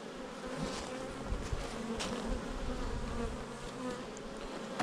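Honeybees buzzing steadily and fairly close while new hives are installed from nucleus boxes, a dense continuous hum with occasional brief louder passes.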